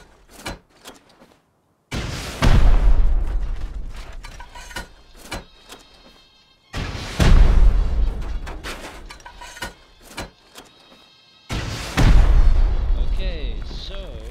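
Three loud rocket explosions blasting a base in the Rust video game, each a sharp boom followed by a long rumbling, crackling tail, separated by brief quiet gaps.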